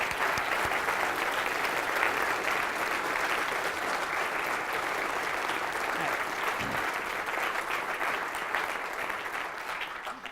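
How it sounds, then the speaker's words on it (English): Sustained applause from a conference audience honoring a program committee, steady and dense for the whole stretch, with no pauses and a faint voice briefly audible near the end. "I'd like you to give them a round of applause too."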